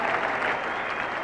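Steady, dense applause from a cricket crowd at Lord's, greeting a batsman's double century near the Vauxhall End; continuous and even, with no gaps or voices on top.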